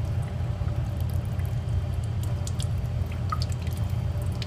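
Deionized water drips and trickles during cleaning of a silica analyzer's reagent solenoid valve, with scattered small drops and wet splashes over a low, steady hum.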